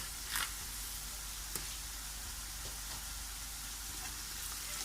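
Onion and carrot frying in a pan: a steady, close sizzle with occasional soft stirring scrapes and pops, no talk.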